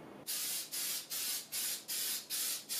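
Close, loud aerosol spray hissing in six or seven short bursts with brief pauses between them, no voices, as spray shellac is applied to a wooden geoboard.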